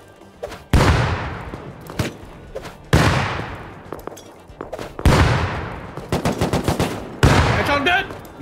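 Gunfire in the video game Rust, loud bursts of automatic shots in several separate volleys with sharp rapid cracks and echoing tails, one stretch of quick repeated shots, and faint voices between them.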